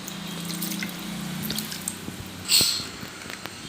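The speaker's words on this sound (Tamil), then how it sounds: "அந்த வதக்கின சட்டியில் கொஞ்சம் தண்ணி போட்டு வச்சுக்கலாம்" Water goes into a pan used for sautéing chana masala, with faint trickling and dripping followed by one brief, louder splash and a soft sizzle.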